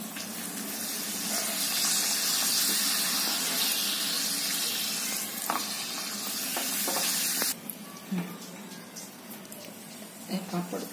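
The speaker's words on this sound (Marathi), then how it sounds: "हे पापड तेलात घालते" Papad frying in hot oil in a home kitchen, a steady loud hiss and spray that runs for several seconds, then drops off to quieter crackles and clinks; a voice speaks over parts of it.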